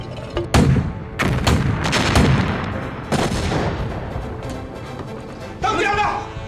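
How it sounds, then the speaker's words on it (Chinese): Artillery bombardment and gunfire in a war drama set against Japanese invaders: several sharp, loud blasts ring out in sequence, some with rolling rumble, while people shout and talk over them. "给我轰，把整个山头都给我轰平为止"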